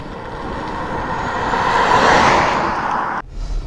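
Inside a Nissan Leaf electric car accelerating, a rising road and wind roar swells for a few seconds then cuts off abruptly.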